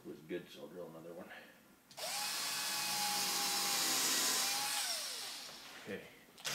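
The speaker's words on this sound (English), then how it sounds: "so I'll drill another one" A power drill bores into wood while building a platform bed, a loud, steady whine that spins up, holds for about three seconds and winds down, following quiet speech beforehand.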